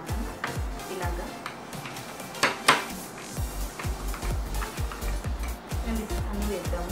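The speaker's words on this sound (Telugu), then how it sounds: "ఒక్కొక్కటి వేసి కలుపుకుందాం ఇలాగా" A spoon scrapes and taps against a bowl while stirring a coffee powder face pack mixture. The strokes are repeated and uneven, with a sharper clatter partway through.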